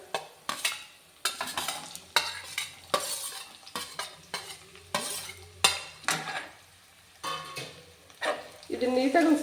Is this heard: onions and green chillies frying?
yes